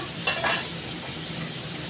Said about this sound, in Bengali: এবার এর মধ্যে আমি এই টমেটো আর কাঁচা লঙ্কা